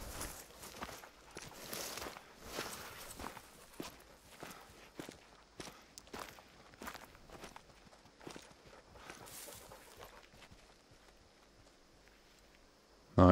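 A hunting dog in the video game Hunter Call of the Wild tromps around, its footsteps crunching in a steady, irregular series of soft nearby steps over quiet outdoor ambience, ending with a sudden louder thump.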